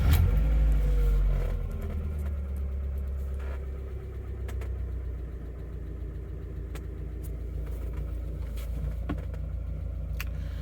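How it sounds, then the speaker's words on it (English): A 1994 Mazda Miata engine idles with a low, steady rumble, starting a little louder, with occasional light clicks and ticks over the drone. "Sometimes the engine is super quiet, sometimes it sounds like a sewing machine."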